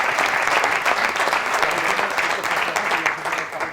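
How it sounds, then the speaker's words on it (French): Audience at a business club panel on sponsorship applauding the guests, steady dense clapping from a room full of people for several seconds. "je crois qu'on peut les applaudir à nos invités d'avoir été présents"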